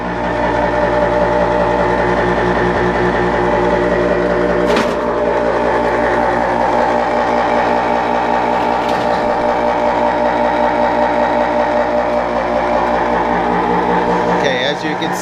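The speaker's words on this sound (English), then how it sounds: "that is the motor that's making way too much noise. It's probably a bad bearing in there or something." A furnace inducer motor, probably with a bad bearing, runs loud and close, holding a steady humming drone with a harsh, rattling whine that continues without a break, broken only by a couple of brief clicks.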